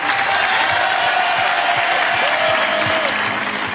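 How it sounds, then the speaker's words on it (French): An audience applauds a singer with a steady, close wash of clapping and a faint sustained tone running through it. "applaudissements pour lui"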